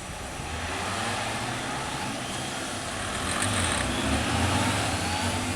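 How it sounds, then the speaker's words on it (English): Motorcycles of a drill team riding in pairs through a leapfrog maneuver at an outdoor event, a steady blended engine rumble at moderate distance that swells slightly toward the end, no talk. "Bikes are going to pair up and going to leapfrog each other."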